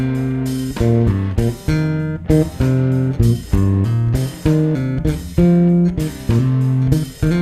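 Bass guitar running up through pentatonic scale shapes, a steady sequence of plucked low notes in even rhythm, clear and close with no talking.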